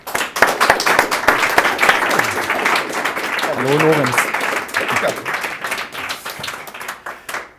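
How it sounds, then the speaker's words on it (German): Applause from an audience as a guest is welcomed onto the stage at a German talk event, clapping running throughout beneath someone speaking. "Schön, dass du da bist und einen großen Applaus."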